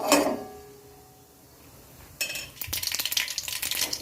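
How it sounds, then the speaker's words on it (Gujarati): A clang of a pan, then a sudden burst of crackling and popping as mustard and cumin seeds splutter in hot oil, continuing rapidly and close by. "આપણી રાઈ તતરી ગઈ છે"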